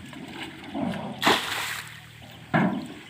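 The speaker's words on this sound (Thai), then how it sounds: "ป๊บเดียวนะครับนี่น้ำไหลไปยันนู่นแล้วนะครับ" Water gushing and splashing from a hand-operated pump, coming in uneven surges with two sharp splashy bursts over a soft background, close and fairly loud.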